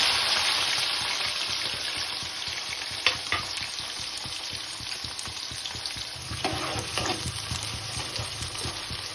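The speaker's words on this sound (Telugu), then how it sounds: "వేసుకొని ముందుగా కట్ చేసిన క్యాప్సికమ్ వేసుకోవాలి" Chopped capsicum sizzles in hot oil with whole spices like cardamom, cloves and bay leaf while cooking a paneer curry, a steady loud frying hiss with occasional stirring scrapes and pops.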